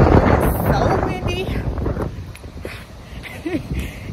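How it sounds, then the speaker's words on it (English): Strong wind buffets the microphone outdoors on a work day, a loud continuous low roar with gusty surges that eases slightly toward the end, while faint voices and other sounds appear under it. "And as you can see, it's so windy."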